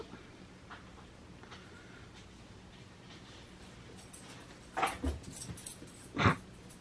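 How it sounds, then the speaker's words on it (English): A small dog named Bunsen stomps across the floor indoors: faint soft taps early on, then a quick cluster of louder, sharper footfalls near the end and a final thump, with no one talking. "hear Bunsen's little stompy feet"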